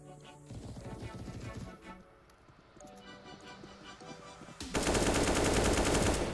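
Rapid bursts of gunfire in CS:GO, a sharp clattering volley that gives way to a louder, dense spray of shots near the end, with faint speech underneath.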